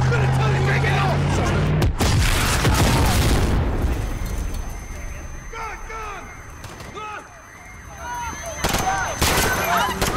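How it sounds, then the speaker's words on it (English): Call of Duty: Modern Warfare gunfire in a Piccadilly Circus police scene: loud bursts and booms up front, then scattered shots with yelling and radio chatter over a busy, chaotic background. "Shots fired."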